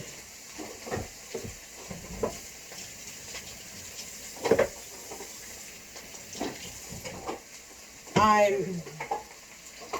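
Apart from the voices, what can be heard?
fideo noodles frying in a pan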